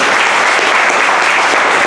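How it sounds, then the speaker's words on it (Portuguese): Church congregation applauding together, a steady dense clapping sustained loud and close throughout with no talk over it. "Vamos aplaudir a Jesus."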